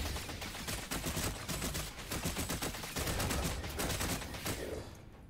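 Rapid bursts of video game gunfire in Farpoint crackle almost nonstop, dense and loud, like an automatic weapon firing in quick volleys before cutting off at the end.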